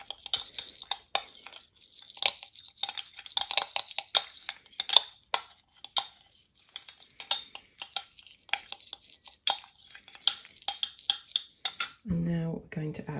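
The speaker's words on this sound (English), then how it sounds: "Mix it around well, get it incorporated with all the gel." Utensil scraping and clinking against a bowl while mint-coloured lip scrub gel is stirred, a dense run of sharp, close taps and scrapes that ends with a brief louder clatter.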